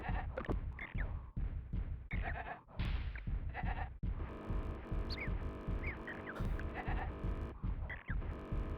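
Sheep bleat repeatedly in the retro strategy video game Powermonger on the SNES, a series of loud wavering cries broken by short gaps, with a low hum beneath them.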